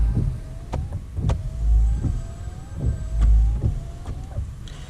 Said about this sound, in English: Next, check your windscreen wipers are working.